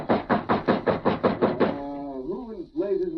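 Eight firm knocks on a wooden door sound in a steady, evenly spaced rhythm in an old-time radio drama, then stop as a voice begins calling out.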